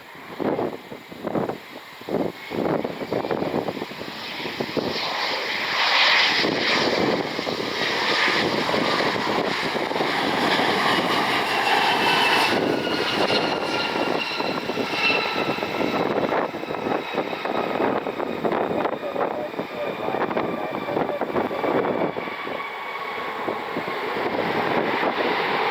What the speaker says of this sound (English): American Airlines 6201 inbound from Chicago.